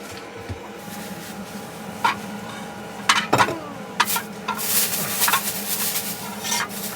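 Vegetables stir-frying in a pan inside a camper van on a snowy roadside, with a sizzling bed under sharp spatula scrapes and metal clanks that grow busier toward the end.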